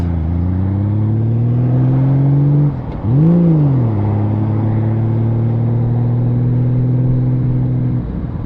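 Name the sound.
Honda Valkyrie motorcycle riding in traffic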